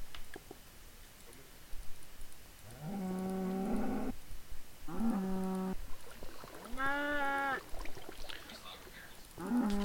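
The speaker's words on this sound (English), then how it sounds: "All I can hear is cow, and it's very annoying." A cow in the Minecraft video game moos repeatedly, several drawn-out lowing calls at moderate volume over a steady background hum, with no talk.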